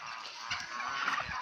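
Turkeys chase a flock of geese and ducks, producing a close, busy mix of clucking, honking and squawking calls over continuous bird chatter.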